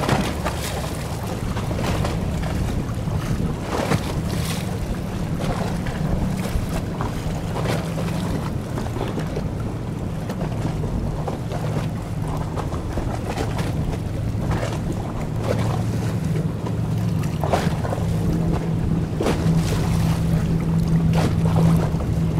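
An FS 27 model speedboat runs at speed with its bow raised, heard from a distance as a steady engine drone mixed with water rush and wind buffeting, continuous and fairly faint.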